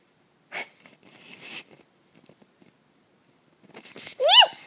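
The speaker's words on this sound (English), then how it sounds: "I need to sneeze." One sharp sneeze bursts out at the end after a quiet stretch of faint breathing and small mouth noises, close and loud.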